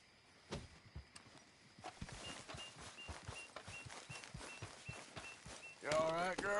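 Horse hooves walking in Red Dead Redemption 2, a steady run of soft, evenly spaced thuds close by, with a louder burst of other game sound near the end.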